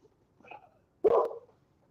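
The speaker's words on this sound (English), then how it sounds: "He's been barking for 20 minutes." A dog named Big Tom Mutt gives a soft whimpering yip, then one short, sharp bark nearby in an otherwise quiet moment.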